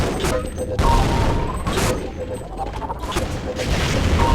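Gunfire from a Half-Life multiplayer deathmatch, with weapon shots and booming blasts crowding together in a loud, continuous fight. Talk runs over the top of the noise.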